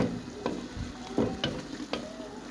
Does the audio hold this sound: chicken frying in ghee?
yes